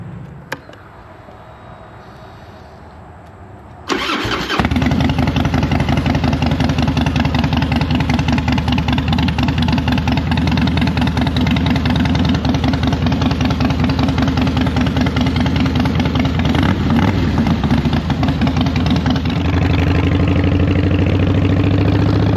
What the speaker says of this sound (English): So like I said, we're just taking this out for a spin